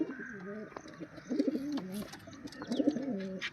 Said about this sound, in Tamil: அழகா என்னுடைய ஆசையான புறா.